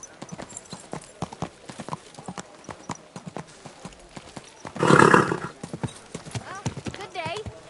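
Rhythmic hooves clip-clop steadily beneath a man's speech, with a brief loud burst and a horse's whinny in the middle, in the video game Kingdom Come: Deliverance II.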